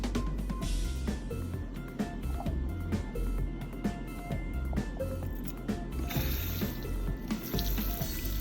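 Warm water at medium pressure sprays and splashes while perm rods in hair are rinsed over a towel, a steady close hiss of running water with small clicks and knocks, no talking.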